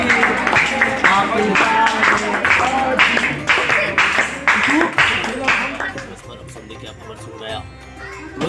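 A group claps together in a brisk, uneven patter for a birthday at a new year celebration at a school for the blind, with talking and children's voices mixed in before the clapping fades.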